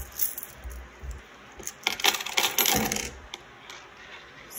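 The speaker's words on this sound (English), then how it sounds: "Get our coin jar. You can just dump out a few." Coins are dumped out of a coin jar in a quick cascade of metallic clinks and jingles. Scattered taps come first, then a dense clattering burst midway and a few settling clicks, close and fairly quiet.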